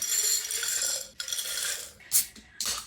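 Ice cubes are dropped into a glass for a blueberry-vanilla Sprite dirty soda, with several separate bright clinks and rattles close by, fairly quiet, with no talk.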